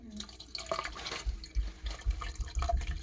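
Mr. Plumber drain opener liquid pours down into a drain with an uneven glugging splash, close and moderately loud, heard without talk.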